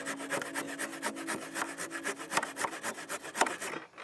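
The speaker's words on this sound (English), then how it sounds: "Just going to finish these little bits up what I can't get to with the handsaw" Wood is being cut by hand in quick, regular back-and-forth strokes, a quiet, close rasping rhythm with a few sharper strokes, ending in a brief pause; no one speaks.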